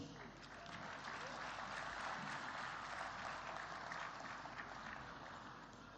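Steady, even applause from a large audience at the closing session of a formal Pravasi Bharatiya Divas ceremony, continuous dense clapping that swells slightly and then eases off at the end.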